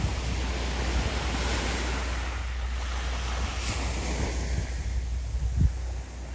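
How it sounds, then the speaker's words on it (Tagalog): Sea waves wash continuously onto a beach at Pundaquit, Zambales, with a steady roar, mixed with gusty wind buffeting the microphone. "Ito ang dagat ng Zambales."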